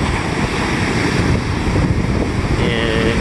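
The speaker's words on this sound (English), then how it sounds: "Mother Nature produced some awesome waves despite coronavirus" Ocean waves breaking at Virginia Beach on a swell day, a loud, continuous roar of surf mixed with heavy wind buffeting the microphone, with no talk.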